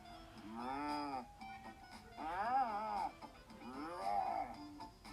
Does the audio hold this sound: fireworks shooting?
no